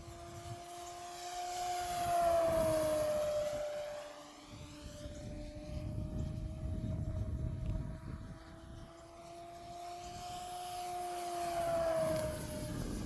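A Nexa P-51 Mustang Dago Red RC model airplane, 1580 mm wingspan, flies low to the ground at full throttle, its electric motor whining steadily and swelling in Doppler passes as it comes near and moves away, with no talk.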